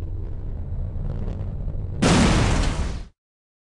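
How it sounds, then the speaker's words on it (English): An artillery strike explodes in the video game Enemy Territory: Quake Wars. A dull rumble comes first, then a loud, bright blast holds for about a second and cuts off sharply into silence. "Hold down the fire button to secure the coordinates and the weapon will fire on your target."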